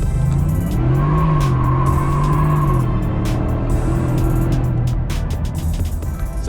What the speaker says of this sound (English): So I'm now going to do a few pulls with the kit on to see what kind of differences that it made.